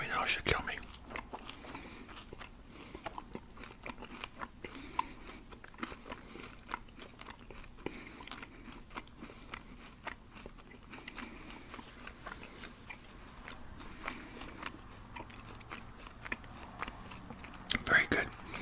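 Close, soft chewing of gum together with chewy candy, moist smacking and small crunches that continue steadily through the clip at a whisper-quiet level with no talk.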